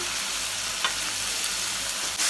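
Garlic paste with turmeric and salt sizzles in a frying pan, a loud, continuous close-up frying hiss with no voices.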